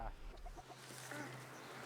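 Chickens on a farm at the foot of Jirisan mountain in Korea give faint, soft clucks from a short distance in a quiet setting.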